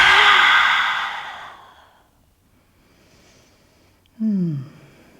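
A deep breath out through a wide open mouth during a breathing exercise, a long airy exhale that fades out, followed by a brief breathy voiced sigh.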